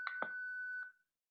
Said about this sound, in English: So I'm going to double tap. We'll hear a beep.